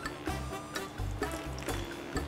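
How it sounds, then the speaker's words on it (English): Three tablespoons of filtered water go into a lemon-almond cookie dough mixture, heard as soft, close pouring and splashing with a steady rhythm of repeated pulses throughout, with no talk. "add in 3 tablespoons of filtered water"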